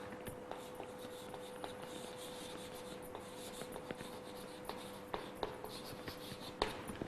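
Marker or chalk writing on a classroom board, with soft continuous scratching and scattered small taps as strokes begin and end, faint and close, alone without talk.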